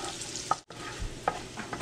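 Onion frying in a pan and being stirred, with a continuous sizzle and a few sharp utensil clicks, close and steady, no talk.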